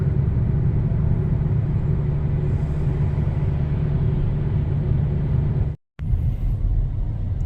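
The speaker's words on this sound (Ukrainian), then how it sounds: "Дорога завантажена і автівок реально десятки тисяч їдуть зараз по цьому маршруту з правого на лівий берег столиці." Dense road traffic streaming across a capital city from the right bank to the left bank, a steady loud rumble of many engines and tyres that drops out for a moment near the end.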